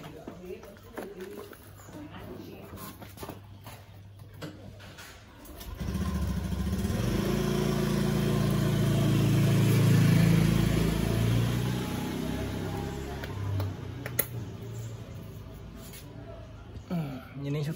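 A Honda Beat ESP scooter engine with a fresh spark plug, previously hard to start and stalling, is run: after a few seconds of low background sound the motor starts and runs steadily close by, revving up and easing off.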